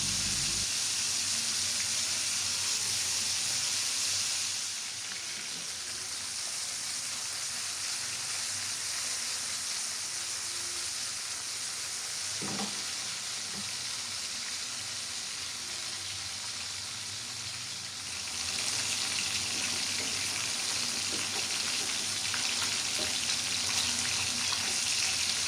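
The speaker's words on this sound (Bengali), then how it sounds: "মাছগুলো দুই সাইড গোল্ডেন কালার করে ভেজে নেওয়া হয়ে গিয়েছে।" Shing fish and turmeric-and-salt coated potatoes fry together in a pan, giving a steady, close sizzle that fills the whole stretch with no voices over it.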